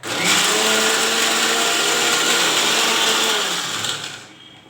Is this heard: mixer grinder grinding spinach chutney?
yes